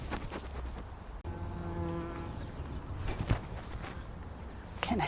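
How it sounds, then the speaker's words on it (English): A bee buzzes close by outdoors around a garden plot, a steady droning hum that wavers in pitch as it moves past, with light rustling and handling noises mixed in. "Getting attacked by a wasp."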